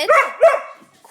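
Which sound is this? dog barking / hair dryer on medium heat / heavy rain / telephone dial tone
dog barking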